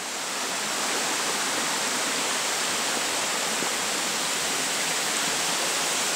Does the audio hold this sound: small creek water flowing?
yes